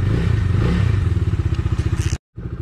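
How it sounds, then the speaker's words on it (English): Motorcycle engine idling close by with a loud, rapid, pulsing putter that cuts out abruptly, falls briefly silent and then resumes, no voices. "So let's take the bike out."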